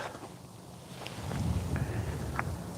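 Wind gusts buffet a microphone outdoors on ice. The low rumble builds and stays steady, with a few faint knocks and handling thumps.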